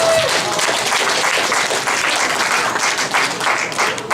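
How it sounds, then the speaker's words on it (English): Dense, loud applause from an audience at a presidential campaign event in Millbrae, California, continuous clapping filling the room with little talk. "Let's give him a round of applause."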